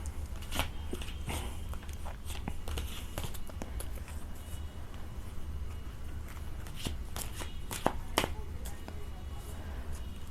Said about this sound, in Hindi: Now I am going to shuffle the cards and let's see.